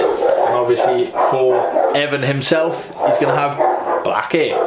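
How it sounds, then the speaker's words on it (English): Neighbours' dogs bark next door, repeated yaps and woofs mixed under steady close-up male speech throughout. "Sorry about the dogs next door, they always bark."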